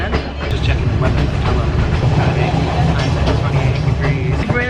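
Passenger train on the Kandy to Ella line running steadily, with a loud continuous rumble and rattling wheel clatter heard up close from inside the carriage, faint voices mixed into the noise.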